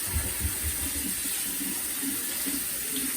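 Cold tap water runs in a kitchen sink as a steady hiss, with light clattering in the background.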